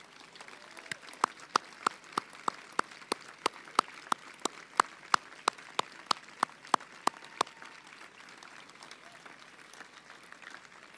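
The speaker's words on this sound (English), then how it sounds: "Please give them applause." Outdoor crowd applause for veterans and their families at a July 4th fireworks opening program: sharp, evenly spaced claps from one nearby person ring out over a soft background of wider clapping and crowd noise, then stop.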